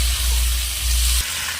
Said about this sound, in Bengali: চিংড়ি মাছগুলো আমি ভেজে নিয়েছি